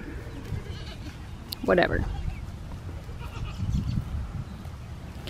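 A Nigerian Dwarf goat gives a single short, close bleat at a farm fence, heard alongside a person talking and outdoor background noise.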